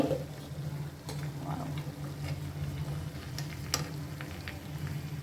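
Olive tandoori chicken sizzles and fries steadily in a covered pan at home, a continuous close crackle with occasional small ticks and pops.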